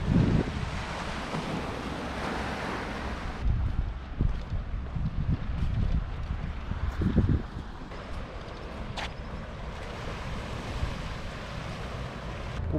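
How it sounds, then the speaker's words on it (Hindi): Sea waves and wind at a seaside memorial on a spot surrounded by water on three sides, a steady roaring wash with gusts buffeting the microphone, louder early and settling into a continuous surf rush. "और ये देखो पूरा समुद्र है"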